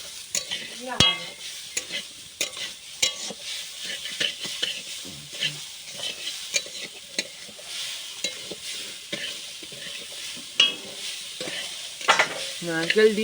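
Grated coconut and sugar being stirred in a pan for patishapta pitha filling, with steady scraping strokes and a soft sizzle repeating close up throughout, no voices.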